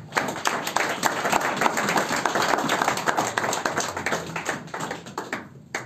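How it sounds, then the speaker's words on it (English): A church congregation claps their hands together after a sermon, dense, continuous clapping at a fairly quick pace, moderately loud and fading slightly toward the end, with little talk. "Can we clap our hands for the living God?"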